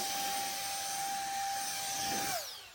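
A slick gun sprays a steady loud hiss of air and liquid onto a car during ceramic coating, holding a constant whine before the pitch drops sharply as the trigger releases near the end.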